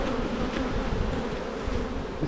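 Honey bees buzz densely around brood frames lifted from a hive during requeening, a loud close continuous drone with no pauses.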